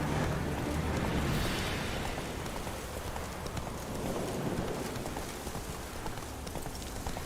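Roach, a horse in The Witcher 3, gallops with rapid rhythmic hoof clops under a hiss of rain, steady and fairly close throughout.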